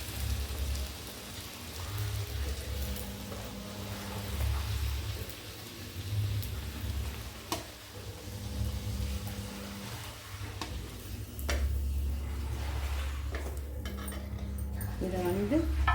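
Puri deep-frying and puffing in hot oil, a steady crackling sizzle like rain running throughout, with a person talking over it.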